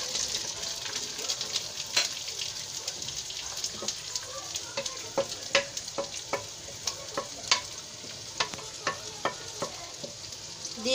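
Cubed capsicum, tomato and green chilies frying in chicken oil give off a continuous crackling sizzle, with frequent sharp spatters and pops and occasional stirring.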